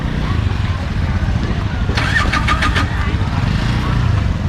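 Motorcycle engines idle and rev at a busy local market in Sihanoukville, Cambodia, a steady mechanical rumble mixed with crowd noise and nearby talking.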